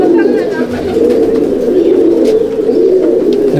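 Several pigeons coo continuously inside a loft, a thick close warbling murmur that holds evenly throughout.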